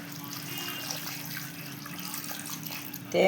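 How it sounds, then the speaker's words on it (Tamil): Water pours steadily from a tap into a pot of tapioca, a continuous close splashing rush that runs throughout with no voices and a brief louder swell at the end. "இப்போ இதில் தண்ணி ஊற்றலாம்."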